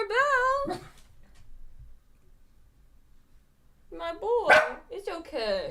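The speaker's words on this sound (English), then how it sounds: "Don't bark. Will you keep barking if I let you out?" A dog barks a couple of times, close by, with a gap of quiet between the bursts of sharp yips and barks.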